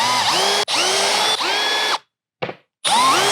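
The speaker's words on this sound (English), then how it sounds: "And now do it with the drill." A cordless power drill whirs in short bursts, backing out the motor screws on an S2 Atrax kit. The loud, close whine stops and starts with brief gaps, and one quick blip falls between the longer runs.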